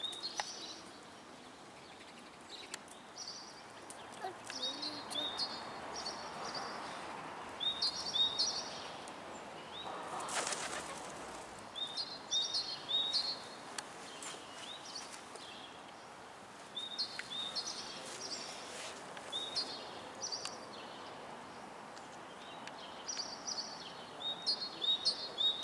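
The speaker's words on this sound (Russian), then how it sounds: "Как птицы поют, слышишь?" Small birds chirp and twitter in repeated bursts outdoors near a children's playground in spring, fairly faint and distant over a soft steady background hiss.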